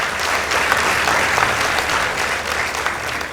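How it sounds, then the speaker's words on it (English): Dense, sustained applause from a school audience at an inter-school debate, loud and steady throughout with no break. "Let's appreciate them with a round of applause"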